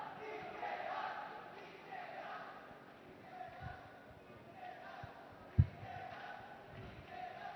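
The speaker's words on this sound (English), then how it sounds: "Again, the team members filled with energy are cheering their teams." Team members cheer their teams from the crowd at the Domestic Robocon 2022 robotics competition, a shouting, murmuring crowd with a sharp thud partway through, moderately distant.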